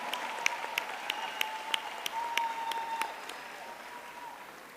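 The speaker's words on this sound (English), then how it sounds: "let's give a round of applause to all of our graduates" A graduation audience at a Durban University of Technology ceremony breaks into steady, full applause, a dense wash of many hands clapping in a large hall that holds strong for a few seconds before easing slightly.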